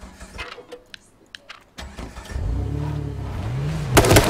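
A car engine starts in the survival game H1Z1: a few clicks and clunks, then the motor cranks and catches, settling into a loud, steady idle with rising and falling revs, ending in a harsh burst.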